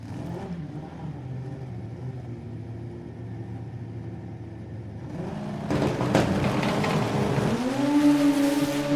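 Super Street Bike drag racing motorcycles launch at a drag strip, a distant engine drone swelling into a loud roaring rise as the bikes pull away.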